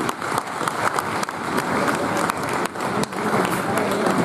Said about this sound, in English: So please, big round of applause for our league umpires for their effort